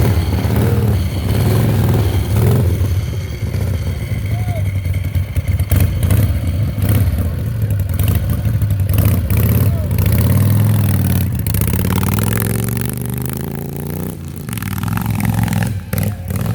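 A Harley-Davidson Panhead motorcycle runs loud and close at a hill-climb event, its engine rumbling and revving in uneven surges with mechanical clatter, while voices call out faintly beneath it.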